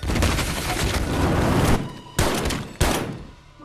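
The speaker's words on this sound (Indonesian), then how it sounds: "aksi tembak-tembakan pun tidak bisa terelakkan." A dense burst of rapid gunfire from a film shootout rattles for nearly two seconds, followed by two separate loud shots with short echoing tails.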